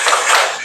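Classroom of students standing and clapping a rhythmic spirit clap, a short burst of dense, loud hand claps close by.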